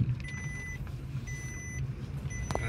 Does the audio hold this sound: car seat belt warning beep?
yes